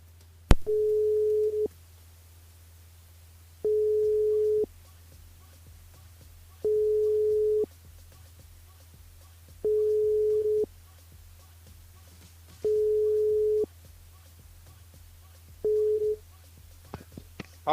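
A telephone ringback tone repeats while a call to a mobile phone is placed during a live radio broadcast, six even beeps spaced a few seconds apart over a low steady hum, with no talking.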